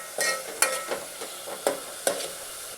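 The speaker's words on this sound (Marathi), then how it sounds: "कांदा टोमॅटोची पेस्ट परतत असताना त्यामध्येच आलं लसूणची पेस्ट घालणार आहोत. हे सर्व आपल्याला तेल सुटेपर्यंत परतून घ्यायचे आहे." Onion-tomato paste with ginger-garlic paste sautés in oil for street-style pav bhaji, a steady close sizzle broken by several sharp scraping stirs of a spoon against the pan.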